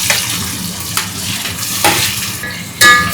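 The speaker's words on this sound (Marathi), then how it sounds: "आता त्याच्यामध्ये मी कांदा टाकते आणि टॅमॅटो" Chopped onion and tomato drop into garlic frying in oil for a chicken dish, bringing a loud, close sizzle with stirring scrapes and a few utensil clinks against the pan, without talk.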